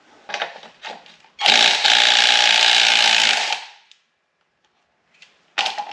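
Ratchet with a 19 mm socket removing a PCV valve on a Subaru Forester EJ25 engine: a few short clicks, then a loud, sustained harsh rasping burst of about two seconds, followed by near silence and a brief final burst.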